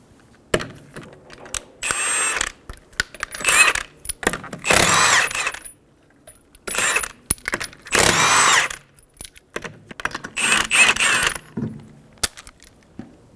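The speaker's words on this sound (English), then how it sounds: "Using a 21 millimeter socket, remove the five lug nuts." Lug nuts come off a 2007-2011 Toyota Camry rear wheel with a 21 mm socket. Close, loud bursts of whirring tool noise repeat roughly every second or two, separated by short metallic clatters and quiet gaps.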